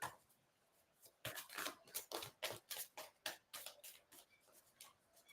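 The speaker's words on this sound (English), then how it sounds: "These cards are really big, so when you shuffle them, it's like, whoa." Large oracle cards are shuffled close by in a quiet room, with a rapid series of crisp riffling slaps and flicks in an uneven rhythm, no talking.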